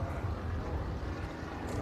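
A 1963 Cooper Monaco T61 race car with a big engine runs at a steady, loud drone through a short stretch of racing at Circuit of the Americas, with rumbling low-end roar and wind buffeting on the microphone.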